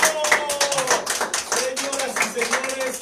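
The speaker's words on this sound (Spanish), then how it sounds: "Maestro Ferran, un aplauso!" An audience at a tarot show applauds for about three seconds, a dense, fairly distant patter of clapping that carries on steadily without speech over it.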